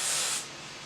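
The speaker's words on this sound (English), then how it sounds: "And I'm just going to spray this at the roots" A single short burst of hair spray hisses close up at the roots of the hair, then trails off into a softer hiss.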